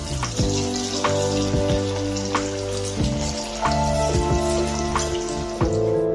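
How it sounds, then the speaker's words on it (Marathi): Prawns frying in hot oil, a continuous close sizzle peppered with sharp spitting pops, over a steady low background hum. "तर अशा प्रकारे आता मी दुसऱ्याही कोळंब्या तळण्यासाठी टाकून घेणार आहे।"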